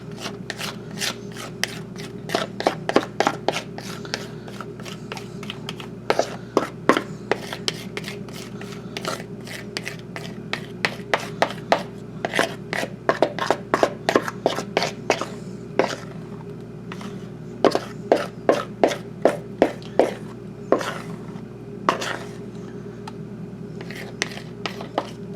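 Carrot cake batter from a box scraped into a cake pan, a run of quick repeated scraping strokes in uneven bursts, close up over a steady low hum, with no talk.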